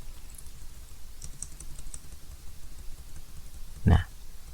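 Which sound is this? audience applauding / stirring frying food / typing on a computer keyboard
typing on a computer keyboard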